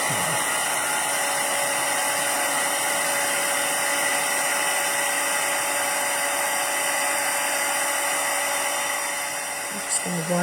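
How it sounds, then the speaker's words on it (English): A Stampin' Up! heat tool used for heat embossing blows continuously, a loud steady whirring hiss that runs unbroken for the whole stretch and cuts off near the end. "And I'm going to use my heat tool."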